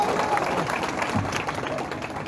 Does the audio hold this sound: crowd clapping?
yes